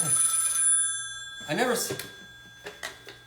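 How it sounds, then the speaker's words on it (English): A telephone rings indoors with a steady electronic tone for under a second, then a person speaks over the fading background. "I think the phone's ringing."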